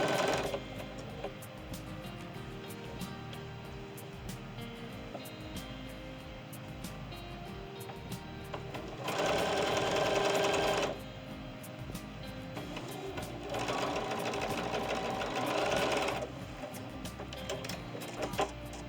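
A sewing machine stitching quilt medallion pieces runs in steady whirring stretches, with two louder, faster bursts of stitching between quieter running, close by and with no talk.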